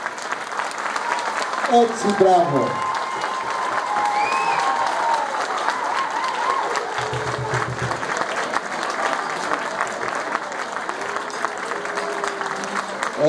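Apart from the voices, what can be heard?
audience applause at a school choir meeting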